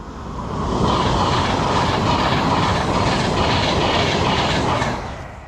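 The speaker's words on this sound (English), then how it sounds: "Here's a train." A train rumbles past with rhythmic clickety-clack of wheels on rails, rising in, holding steady and loud, then fading away.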